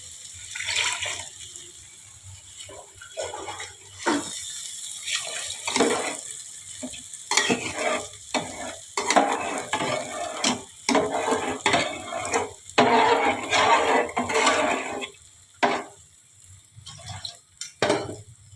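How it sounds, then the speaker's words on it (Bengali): Fried rice and dal simmering with added water in a pot, with bursts of bubbling, stirring and clattering of a metal utensil against the pan, close and intermittent with quiet gaps. "এই যে চাল আর ডাল ভেজে রেখেছিলাম, এটা জল দিয়ে একটু ফুটতে দেব"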